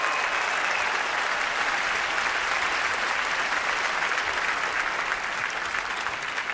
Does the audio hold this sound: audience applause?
yes